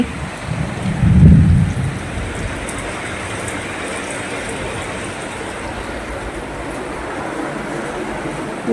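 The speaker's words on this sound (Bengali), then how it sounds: "ওই দেখো জল বৃষ্টি" Steady rain falls and patters on surfaces all around, with a low rumble early on and no voices.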